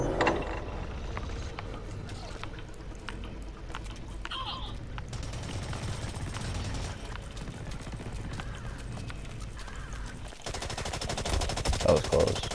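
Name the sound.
gunfire from the video game Blacklight: Retribution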